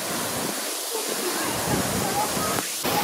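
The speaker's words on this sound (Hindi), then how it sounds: "पूरा बहुत तेज है और टाइगर फॉल भाई बहुत डेंजरस है" Tiger Waterfall near Chakrata, Uttarakhand, pours down in a strong torrent, making a loud, constant broadband roar of crashing water close by, with someone talking over it.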